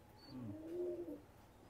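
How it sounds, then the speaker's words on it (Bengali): A single low, rolling coo rises and falls once from a KTM breed pigeon in molt, faint and close, with a quiet background. "এই এক জোড়া কবুতর আছে"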